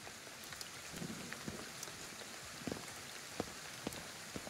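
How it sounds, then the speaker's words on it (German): Steady rain patters across surfaces in the video game Ghostwire: Tokyo, a soft continuous hiss dotted with faint individual drip ticks, with no voices. "jetzt regnet schon wieder."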